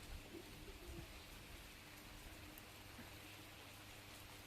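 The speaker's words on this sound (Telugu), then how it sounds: "ఈ వాన మాత్రం ఆగుతలేదు పోదాం అంటే." Steady rain pours down outdoors on a dreary day, a dense, even hiss of drops on surfaces with occasional closer patters, with no voices heard.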